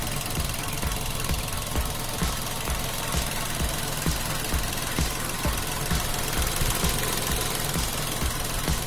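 A 2014 Datsun GO+ Panca's aging three-cylinder engine idles close by with a steady, rough, vibrating rumble and faint rhythmic knocking, continuous with no talking.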